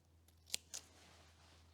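Two quick, crisp snips of scissors cutting paper, close and fairly quiet, with near silence before and after.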